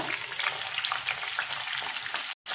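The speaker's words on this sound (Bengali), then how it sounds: "তেলগুলো কিন্তু গরম হয়ে গিয়েছে। কাঁকরোলগুলো দিয়ে দিচ্ছি।" Sliced teasel gourd sizzles and crackles steadily in hot oil, a dense continuous frying hiss with small pops, close and loud, ending in a brief silence.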